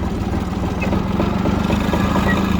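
A used Japanese Yanmar F-220 mini tractor, rated at 22 hp, idles with a steady low diesel throb. The engine runs close by at an even, continuous level with no pauses.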